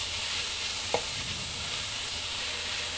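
Beef quickly stir-fried in a pan with button mushrooms, a faint steady sizzle with a single brief scrape or clink of a utensil near the start, no talking.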